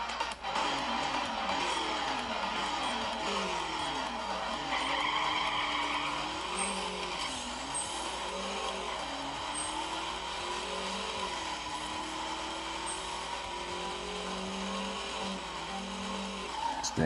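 Race cars in a mobile video game played on a Moto G Power, engines revving in rising and falling sweeps with repeated tire squeals and skids, loud and continuous from start to finish with no talking.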